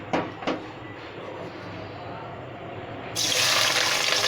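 A chopped onion lands in hot oil for a chicken tikka karahi. After a couple of light clatters, a loud, steady sizzle starts partway through and continues to the end.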